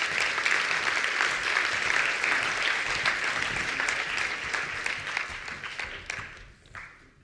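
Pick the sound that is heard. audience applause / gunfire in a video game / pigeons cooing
audience applause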